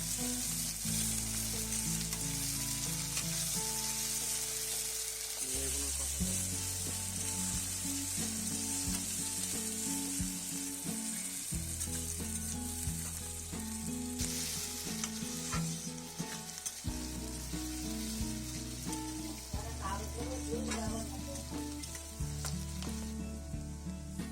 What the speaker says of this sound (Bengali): পরিমাণ মতো পেঁয়াজ দিয়ে পেঁয়াজটাকে ভালো করে ভেজে নিতে হবে